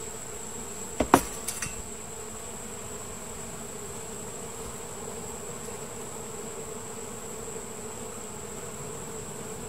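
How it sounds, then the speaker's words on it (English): Steady buzzing of honey bees around a hive as honey supers are removed, continuous and close, with a few brief clicks near the start. "I got bees walking all over my arms. I got bees crawling on me."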